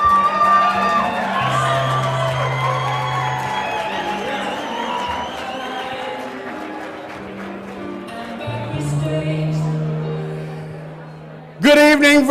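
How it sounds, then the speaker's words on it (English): A crowd at a live election-night event in Virginia Beach cheers, whoops and applauds for an arriving speaker, a loud, steady roar over tonal music that swells again in a sharp burst at the very end. "Give a round of applause for Eric Ray."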